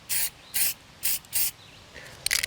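Four short bursts of hissing from a spray paint can in a steady rhythm, then a crackly, sputtering spurt spitting black chunks at the end; close and fairly loud.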